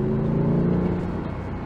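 A Mercedes-Benz W211 E63 AMG engine heard from inside the car while downshifting, a loud steady droning rumble with a low tonal growl that eases slightly, and no talking.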